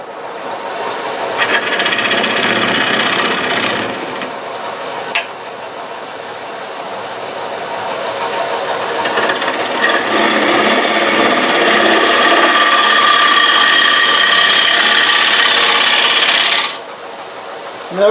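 A woodturning lathe gouge strips away a lot of wood from a spinning colored-rim platter, producing a steady, loud rasping roar with a few brief pauses, and no talk over it.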